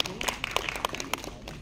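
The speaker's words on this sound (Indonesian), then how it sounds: "tepuk tangan untuk Mas Agus Hamawardi" Brief, fairly faint audience clapping at a film premiere event as a director is called up, with separate claps standing out over a soft background murmur.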